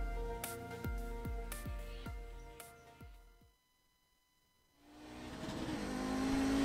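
The GSRC Audi race car in iRacing at Barber Motorsports Park: the engine revs sharply through a rapid series of upshifts, drops to near silence, then climbs again in a loud, rising drone.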